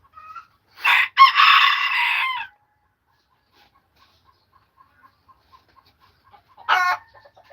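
On a farm with broiler chickens, a rooster lets out a loud, drawn-out crow, followed by a quiet stretch of soft clucks and then a second, shorter crow near the end.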